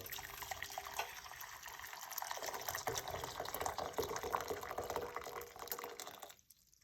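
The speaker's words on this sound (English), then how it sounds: "we're gonna add 1 cup of hot water." Hot water is poured into a cup, a steady splashing, trickling fill that runs for several seconds near the microphone and then stops abruptly.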